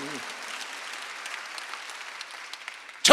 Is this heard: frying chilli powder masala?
no